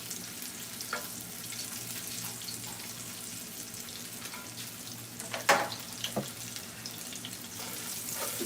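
Garlic frying for a sauce sizzles as a steady, close hiss in a pan, with a few brief clinks from stirring partway through.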